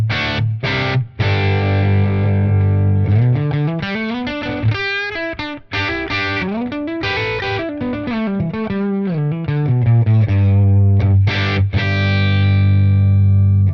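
A distorted, chorused electric guitar plays through a '65 Fender Deluxe Reverb amp with a V30 speaker, loud chords and melodic lead phrases ringing with sustained overdriven tone.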